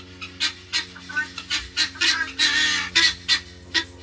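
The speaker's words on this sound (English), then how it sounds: "You a good looking duck, man." Duck at a farm animal sanctuary giving a rapid run of about a dozen loud, close honking quacks in uneven bursts, with no talk over them.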